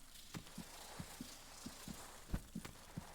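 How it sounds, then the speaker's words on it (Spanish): A steady heartbeat thumps in the Hollow Knight video game, soft paired low beats repeating about every third of a second with one louder pulse near the middle, alone over quiet ambience. "Se escucha un latido de corazón"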